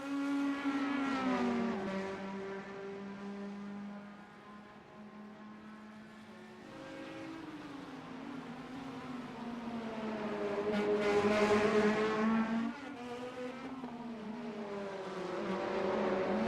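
Race cars in a sim racing video game at Belle Isle, Detroit, on the last lap, their engines droning and shifting pitch continuously as they run close together, loud and steady with a swelling passage midway.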